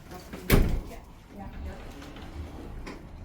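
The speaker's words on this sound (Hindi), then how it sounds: "ये दरवाज़ा खुलता चला गया" A door swings open as people enter a community club, with a sharp knock or thud at the start followed by a softer sweep, while people talk nearby.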